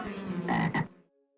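A single loud, throaty frog croak, close by, lasting about a second and then fading into quiet.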